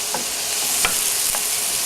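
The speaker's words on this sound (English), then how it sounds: "So just keep it very lightly sauteed." Vegetables sauté lightly in a pan, giving a continuous soft hiss with a few brief scrapes of stirring scattered through, close by and with no voices.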